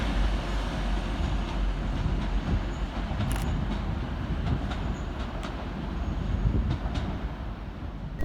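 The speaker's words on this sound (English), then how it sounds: "Another 1 in 1 out now as 185121 arrives, while 331028 and 331012 depart in the background" Class 185 and Class 331 trains arriving and departing at Manchester Oxford Road station, a steady rumble of wheels and engines with faint squeals and clicks, continuous and fairly close.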